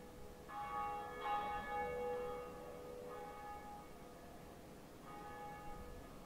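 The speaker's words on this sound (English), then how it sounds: "ringing the bell does absolutely nothing" The bell of awakening rings in the Dark Souls video game, clear harmonic bell tones struck twice close together with a long sustained decay, then a fainter third ring near the end, over a low background hum.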